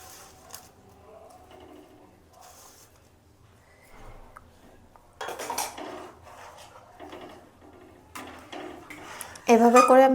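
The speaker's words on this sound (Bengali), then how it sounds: "এভাবে করে আমি মিশিয়ে নেব গুড়গুলো, একটু ফুটিয়ে নেব।" A spoon stirs jaggery into rice pudding (payesh) in a pot, giving scattered soft scrapes and clinks of utensil on metal, quiet at first and growing busier toward the end.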